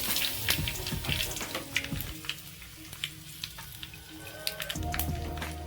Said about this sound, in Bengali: তেলের মধ্যে আমি সর্ষে দিয়ে দেবো, এক চামচ মতো হিং দিয়ে দেবো, 2টো শুকনো লঙ্কা আর কারি পাতা দিয়ে দেবো।